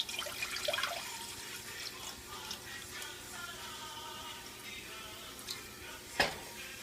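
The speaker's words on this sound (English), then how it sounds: "We'll pour the broth inside." Broth splashes and trickles into a pot for several seconds, fairly faint and close, ending with a brief clunk.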